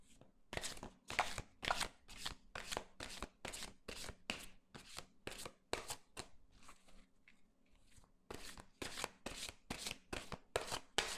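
Tarot cards being shuffled and cut by hand, a rapid run of crisp riffling flicks and soft slaps up close, quiet and continuous with a brief lull midway, no talking.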